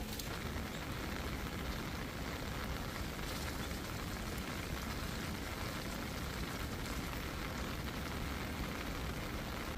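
Steady rain falls outdoors over a village home, a dense, even hiss of drops on surfaces that carries on without a break, fairly close and with no voices.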